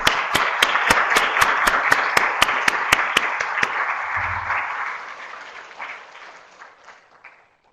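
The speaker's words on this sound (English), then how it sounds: "can we all give our panel a round of applause?" An audience applauds a panel at a public meeting on patient-focused drug development for pulmonary arterial hypertension, warmly and steadily for several seconds before the clapping thins out and fades away. A few sharp claps stand out near the start.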